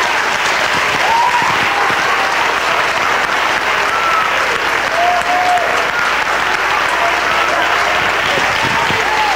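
A church congregation applauds loudly during a service, thick continuous clapping close up with crowd cheers and scattered voices mixed in, steady from start to finish.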